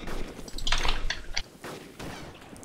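A 107mm rocket launched in a combat video game gives a muffled boom and whoosh with a few sharp crackling reports, moderately loud and brief, then trailing off.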